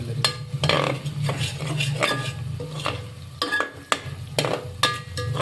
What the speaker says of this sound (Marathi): कलर बदलस तर चांगलं भाजून घ्यायचं